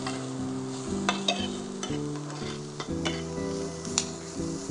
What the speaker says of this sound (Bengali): ভেজিটেবিলগুলো আমার হালকা ভেজে নিতে হবে